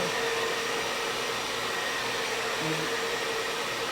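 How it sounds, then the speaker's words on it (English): A blow dryer runs steadily at a low setting, a constant close whooshing hum with no talking. "you can always take a blow dryer on low"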